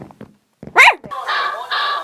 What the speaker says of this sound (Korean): 아니 개소리가 자꾸